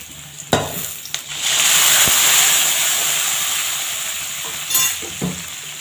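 A spinach and lentil dal mixture fries in oil in a pan, with a loud, steady hiss of sizzling close by, and a few utensil knocks and scrapes before and after.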